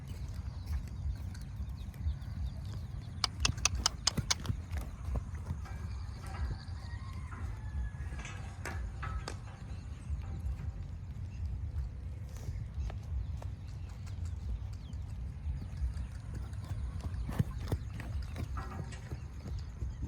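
A mare at a horse farm trots on firm ground, hooves clip-clopping in quick rhythmic bursts that come and go over a low steady background rumble, fairly faint and without talk.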